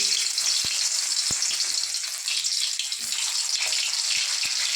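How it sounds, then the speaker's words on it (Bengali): Parboiled potatoes frying in hot oil in a wok, a continuous bright sizzle with a few sharp clinks and taps of a utensil against the pan, no talking. "এবার আমি আলুগুলো ভেজে নেবো একটু"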